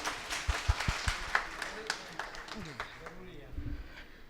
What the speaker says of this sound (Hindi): मैं भी ये चाहता हूँ एक मरतबा ज़रा सा ताली बजा के हौसला सा बढ़ा दें।